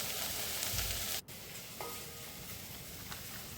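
Okra frying in a pan, stirred constantly while cooking for vendakkai mor kuzhambu, gives a soft, steady hiss of sizzling with a brief scrape and a small dip in the middle.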